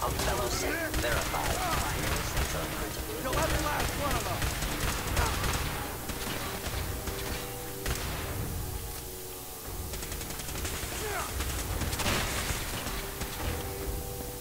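Gunfire from combat in the video game Fallout 4, dense rapid shots and bursts layered over game music and effects throughout, with a voice talking over the battle.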